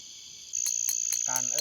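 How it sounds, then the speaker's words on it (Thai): Green cicadas calling at night beside a rice field, a steady high shrill drone throughout with repeated louder pulses, joined near the end by a brief lower warbling tone. "จักจั่นสีเขียว มันแต่กลางคืนเท่านั้นที่เราสามารถเอิ้นให้มันมาหาเรา"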